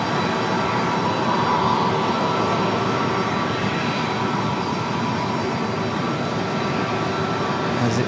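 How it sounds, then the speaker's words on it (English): A Southwest Boeing 737 MAX 8 arriving at RDU from Fort Lauderdale gives off a steady, fairly loud jet roar with a faint tonal whine, continuous and unbroken for several seconds with no talking. "This one Southwest 3350. This one coming in from Fort Lauderdale, 737 MAX 8."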